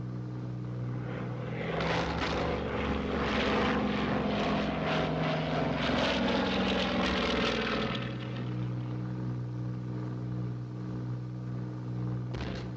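Propeller aircraft engines drone loudly and continuously as the plane goes into a steep dive in a 1942 wartime film scene, swelling in the middle and then easing back to a steadier hum.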